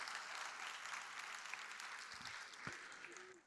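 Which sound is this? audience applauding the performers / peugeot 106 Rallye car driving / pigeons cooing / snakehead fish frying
audience applauding the performers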